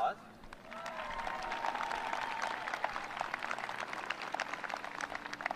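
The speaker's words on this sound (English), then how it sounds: "So let's give them a round of applause." Applause from a graduation audience at Union High School honoring the teachers, a broad sustained patter of many hands at moderate volume, with some crowd voices mixed in throughout.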